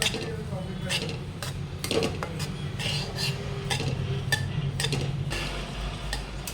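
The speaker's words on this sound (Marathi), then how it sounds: "आता याच्यात ही मोहरीची डाळ आपल्याला भाजून घ्यायची आहे ही पण कमी गॅसवरच भाजून घ्यायची आहे" Mustard dal is dry-roasted over a low flame and stirred, giving a steady dry scraping and rattling of the spoon against the metal pan, close by and without sizzle.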